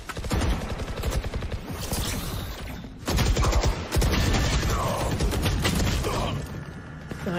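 Rapid bursts of gunfire from a professional Valorant match, 100 Thieves versus Gen.G, crackle loud and dense through most of the stretch, with a brief lull near the three-second mark before the shooting resumes.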